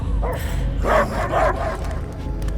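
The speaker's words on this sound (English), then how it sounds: "I hear only barking." Cosmo the dog in the Guardians of the Galaxy video game gives a few loud, close barks and yips in quick succession over a low game rumble.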